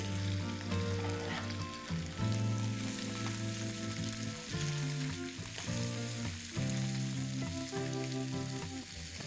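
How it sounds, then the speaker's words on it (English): Slices of pomfret fish frying in about a quarter cup of hot oil over a medium flame, a loud, continuous sizzle with crackling spatter and no talking. "I haven't used much oil, but just 1/4 cup of oil to fry all the slices."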